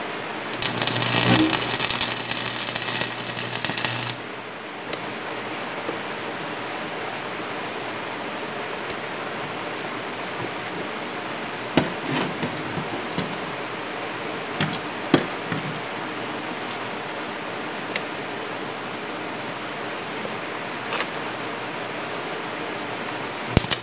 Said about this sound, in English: I'm going to weld this nut onto the all-thread rod.